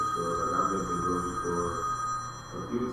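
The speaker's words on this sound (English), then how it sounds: "Somebody's phone's ringing." A phone rings in repeated electronic trilling bursts, moderately loud, with a steady background hum and no talk.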